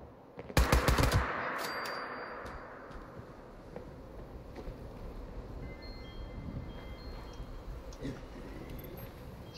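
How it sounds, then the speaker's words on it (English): A rapid burst of automatic gunfire in Fallout 76 rings out loud and close near the start, then fades into a long rumbling ambient tail with faint scattered impacts. "Did I seriously just miss every single one of those shots?"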